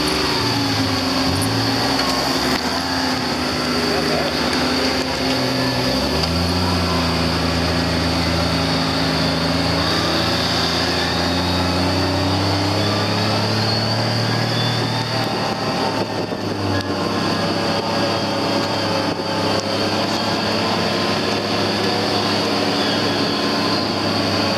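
A 2015 Kawasaki MULE PRO-FXT side-by-side drives through a wooded trail, its engine droning loudly and continuously with shifting pitch as it rises and falls over uneven ground, heard from on board.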